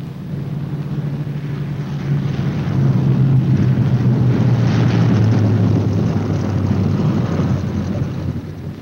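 Low, droning engine roar of a B-17 bomber coming in to land with its left inboard engine dead, a steady rumbling hum that swells louder midway and holds.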